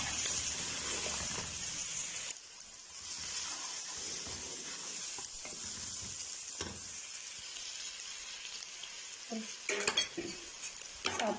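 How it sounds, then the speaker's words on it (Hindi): Green chillies fry in a pan with a steady sizzle, broken by spoon stirs and clinks against the metal. The sound is moderately close and no one speaks. "एक मिनट के लिए हमने बस मिर्चों को भून लेना"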